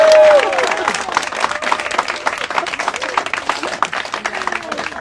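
Friends gathered aboard the boat Vodnik applaud the skipper, a steady patter of many hands clapping close by, with a brief voice or cheer at the start and scattered sounds mixed in.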